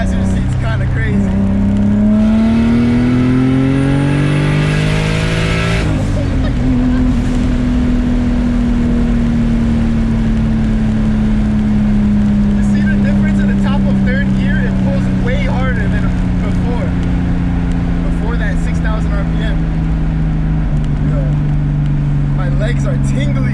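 A turbocharged BMW E30 with an M50 engine revs hard under load, a loud sustained roar with a rising pitch that shifts at a gear change and then climbs again, heard from inside the car while people talk over it.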